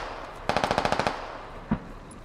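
Machine gun fire in a multiplayer military shooter game: a quick burst of about ten evenly spaced shots lasting roughly half a second, followed by one more isolated shot, close and loud over a quiet background.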